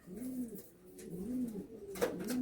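Andhra pigeons coo continuously in a loft, soft overlapping rolling calls from several birds, with a brief sharp knock near the end.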